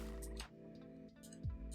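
Frogs croaking in Minecraft, a few short croaks over a steady low game hum and faint background sounds, with no talking.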